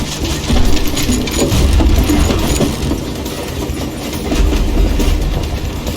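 A train in a video game rolls past, loud and near, with a dense rumbling clatter and steady clickety-clack of wagons, no voices over it.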